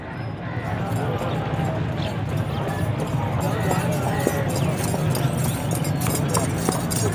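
A tall horse at a livestock market where it is offered for sale clip-clops as it is ridden and turned, the hoofbeats close and steady under voices and general crowd hubbub.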